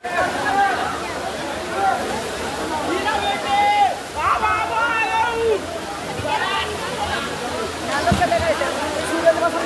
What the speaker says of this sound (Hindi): झरना बहुत बढ़िया